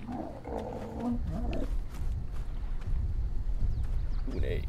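A deep, drawn-out roar from a large creature, probably a Brontosaurus in the game ARK, sounds over a low rumbling background, with a second shorter growl near the end.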